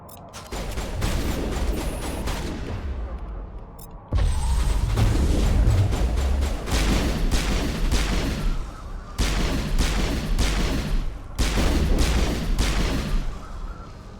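Sniper rifle fire in the Mass Effect game comes as loud, steady runs of repeated shots in several blocks, with mechanical clatter and deep booms between them.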